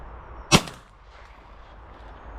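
A single sharp gunshot fired during pigeon shooting, loud and close, cracking out once and then fading into a quiet outdoor background with no talking.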